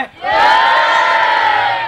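A crowd of spectators shouts and cheers in one loud, sustained collective roar that swells quickly and holds steady for about two seconds.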